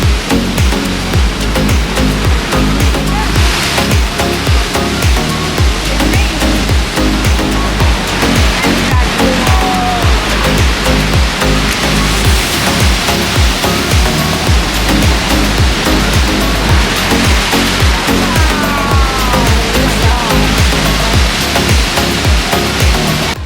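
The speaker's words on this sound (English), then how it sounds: "The waves were getting really aggressive, and it was amazing watching them crash onto the rocks" Heavy ocean swells crash and churn against the rocks at Thor's Well on the Oregon coast, a loud, continuous roar of surf with repeated breaking surges and spilling water.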